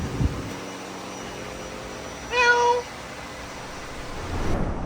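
A single short cat meow rises midway over a steady low hum in Key West, Florida, with nothing else standing out.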